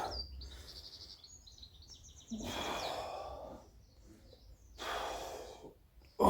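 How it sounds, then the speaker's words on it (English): Heavy, loud exhalations from a person doing a light set of dumbbell-style pullovers with a 22-pound plate, coming in two or three long breathy bursts with quieter gaps between them, close to the microphone. "Breathing in on the way down and out on the way up."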